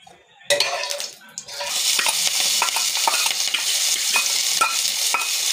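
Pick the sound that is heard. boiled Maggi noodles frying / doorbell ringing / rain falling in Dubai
boiled Maggi noodles frying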